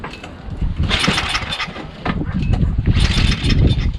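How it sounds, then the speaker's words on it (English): A 5 HP Tecumseh engine on an Ariens 524 two-stage snowblower runs on choke with a dirty carburetor, a loud, close, uneven sputtering chug that surges in level, with someone talking over it. "But it does start and run on choke"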